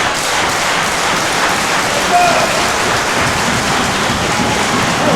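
A sold-out capacity crowd at a Reality of Wrestling arena roars in a steady, dense wall of cheering and clapping that holds loud and unbroken from start to finish.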